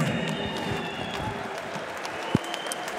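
A modest crowd applauds at an MMA event at OKTAGON 36 as a fighter is introduced in the blue corner; steady clapping fills the hall with one sharp knock near the end.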